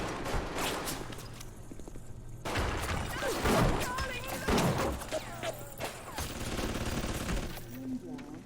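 Rapid bursts of turret gunfire in the BioShock video game crackle in quick volleys, mixed with in-game shouts, footsteps and other combat noises at moderate loudness.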